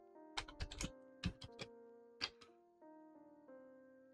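Keystrokes on a computer keyboard come in quick bursts of a few clicks with short pauses, close and fairly quiet over a steady low hum.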